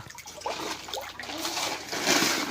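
Floodwater flowing in, a continuous close rush and trickle of water that swells toward the end, with no talk over it.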